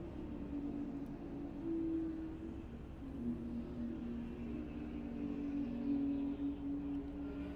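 GTS touring race cars in a German Touring Series championship race on a circuit, their engines droning steadily at a distance with rising and falling revs as they pass.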